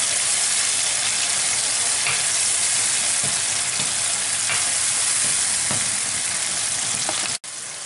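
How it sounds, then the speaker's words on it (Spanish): Grated tomatoes with a pinch of salt sautéing in a pan, a steady, loud, continuous sizzle and frying hiss with faint stirring scrapes and no talking. "Añadimos un poquito de sal y ahora vamos a sofreírlo"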